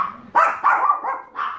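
Household dogs bark indoors in a quick series of four or five loud, close barks with short pauses between them, and no talking over them.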